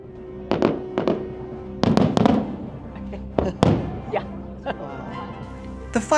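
Fireworks bursting over a cruise ship at a world cruise finale, a series of sharp booms and crackles spaced irregularly, some near and loud, with faint crowd voices between.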